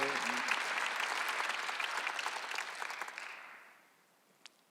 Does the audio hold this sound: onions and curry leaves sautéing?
no